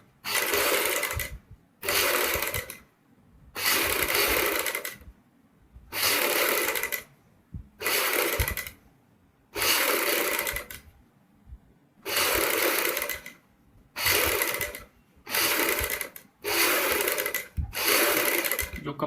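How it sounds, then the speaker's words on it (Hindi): Sewing machine stitching over the pad of a padded katori blouse, running in about eleven short bursts of rapid mechanical whirring separated by brief pauses, close and loud with no talk. "ये हम पैड के ऊपर इस तरीके से सिलाई लगाएंगे।"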